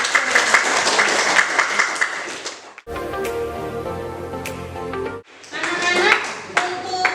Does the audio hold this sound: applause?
yes